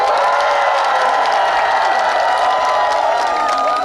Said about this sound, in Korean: 오늘 주최층 여러분들께 다시 한번 뜨거운 박수를 부탁드리겠습니다.